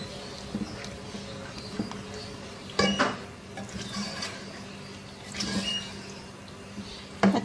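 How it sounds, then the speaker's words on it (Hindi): Fresh cream being stirred into a Mughlai dish in a pot, with scattered soft scrapes and clinks of a spoon against the vessel, a few sharper knocks standing out from a quiet background. "क्रीम को अच्छी तरह से मिक्स कर लेंगे इसमें"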